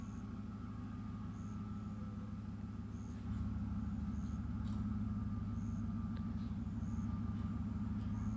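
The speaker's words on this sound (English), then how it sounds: "Rev that nasty old truck up." A neighbor's truck engine running with a loud exhaust, a steady deep rumble heard from some distance that steps up in level partway through as the engine is revved, with no talk.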